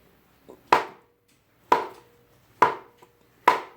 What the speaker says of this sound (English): So I just chop these up.